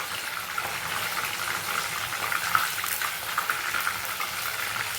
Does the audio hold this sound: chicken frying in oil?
yes